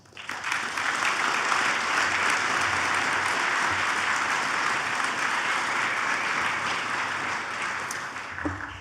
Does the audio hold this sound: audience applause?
yes